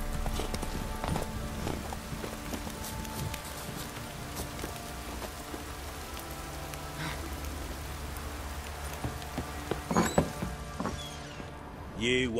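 Horse hooves clip-clop rhythmically at a steady pace in The Witcher 3, moderately close, amid rain-like ambience with faint other sounds.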